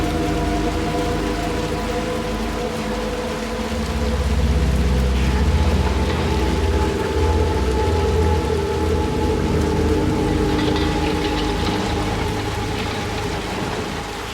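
Rain falls in the video game Little Nightmares II as a constant wash of drops, with a low rumbling swell in the middle and faint tonal ambience underneath.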